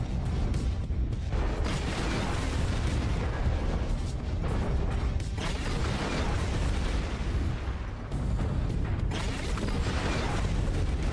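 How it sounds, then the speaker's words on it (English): A Vindicator mech firing lasers in a MechWarrior video game amid heavy battle noise, with a dense, continuous rumble of weapon fire and explosions and only a brief dip near the end. "I'm firing my lasers!"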